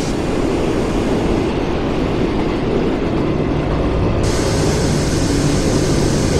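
A class 385 train in Overground livery running along the line, a loud continuous rolling roar with broadband rumble and rail noise that holds steady throughout.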